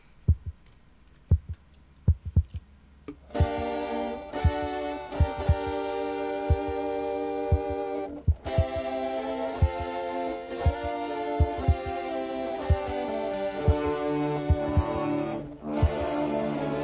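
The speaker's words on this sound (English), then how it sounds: "I love the heartbeat." A steady heartbeat thumps in the opening of an instrumental, regular double pulses running throughout under sustained layered guitar-orchestra chords that enter a few seconds in and swell.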